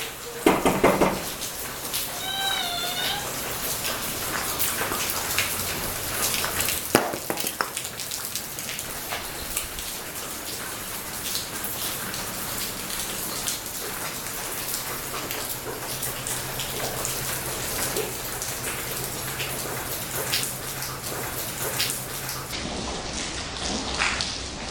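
Steady rain falling through the night outdoors, a dense continuous patter of drops with a few knocks and brief chirps early on, heard alone without talk.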